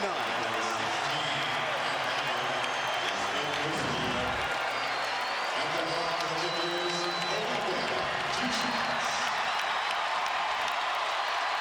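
A packed basketball arena crowd cheers and roars continuously for Kobe Bryant as he nears his 80th point in January 2006, a dense sustained wall of noise with commentators talking over it.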